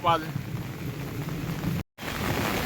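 Heavy rain pours steadily outdoors near a riverbank during a thunderstorm, a dense continuous wash with a low rumble, briefly dropping out before resuming.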